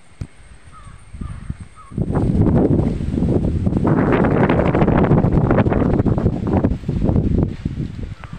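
Strong wind blowing high up in an anjili tree, roaring and rustling loudly and close through the leaves with buffeting on the microphone, a few crow caws audible at the start before the gusts build.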